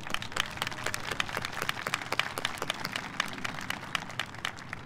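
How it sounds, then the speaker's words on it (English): At a community college graduation ceremony, a crowd claps for the graduates. The applause is moderately distant, with sharp individual claps standing out, and a few cheers mixed in. "I think that deserves a round of applause"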